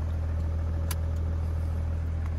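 A crash-damaged BMW E60 running just after starting, giving a steady, close, low engine rumble with an even idle and no clear speech over it.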